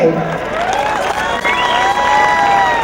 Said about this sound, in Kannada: ಮುಂಚೆ ಒಮ್ಮೆ ಜೋರು ಚಪ್ಪಾಳೆ